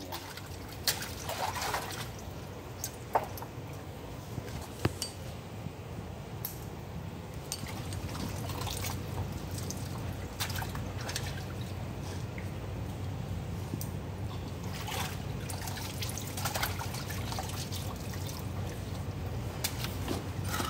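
Water trickles steadily for about twenty seconds while seized brake parts are washed clean, a soft continuous flow with occasional faint drips and clinks, close by and unaccompanied by talk.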